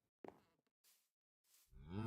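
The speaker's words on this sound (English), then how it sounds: "Cows here." Cows in a video game give a few separate low moos and grunts, loud and close, with short silent gaps between calls.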